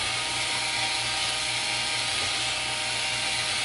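A power drill used as a mixer whisks cookie batter, a steady loud motor whine that holds an even pitch throughout, with no voices.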